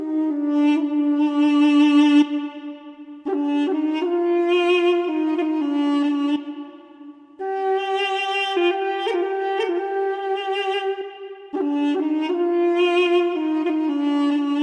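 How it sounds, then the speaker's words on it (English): A Duduk Licks flute patch from a Kontakt world-instrument bank, played with light reverb for a Middle Eastern trap beat, carrying a reedy, ornamented melody in several long phrases with short pauses between them. "pulled up a flute called the Duduk Licks"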